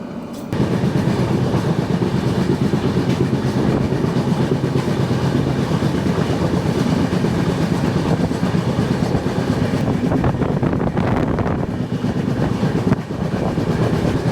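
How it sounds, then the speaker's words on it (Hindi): Madgaon–Mangaluru MEMU train passing on the Konkan Railway, a steady loud rumble and clatter of wheels over rails that holds for the whole stretch with no voices. "इस साइड में आई है मडगांव मैंगलुरु मेमू"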